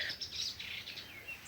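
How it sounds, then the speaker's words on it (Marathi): Several high, thin calls of a black kite repeat in quick succession, faint and somewhat distant, with no voices. "घार आहे घार"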